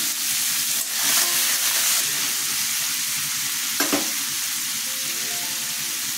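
Chickpeas fry and get stirred in a hot pan, a loud continuous sizzle broken by a couple of sharp scraping stirs, close up with no talking.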